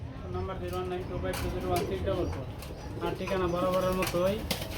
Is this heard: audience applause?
no